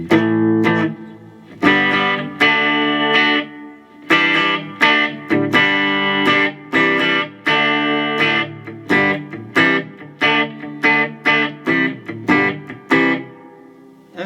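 An electric guitar played through a Fender Mustang Micro headphone amp on its 65 Deluxe model with reverb rings out in strummed chords and bright picked notes, each phrase decaying into a reverb tail between short pauses.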